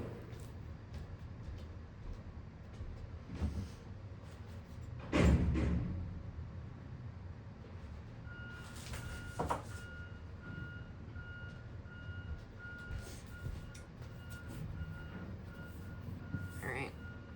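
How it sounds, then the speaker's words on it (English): A construction vehicle's reversing alarm beeps repeatedly in the distance over a low truck engine rumble, with a louder clunk partway through. "Sorry if you can hear the construction car right now."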